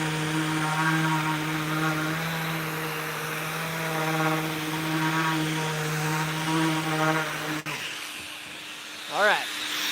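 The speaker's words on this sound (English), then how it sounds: "Surf Prep Sander for the win." A Surf Prep electric sander drones steadily for several seconds while sanding, then switches off, leaving a quieter room with a brief whirring sound near the end.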